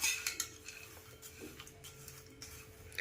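Jowar chivda is tossed with sugar and amchur powder, heard as quiet, scattered ticks and light scrapes of a spoon against a bowl in a hushed room, with no voices.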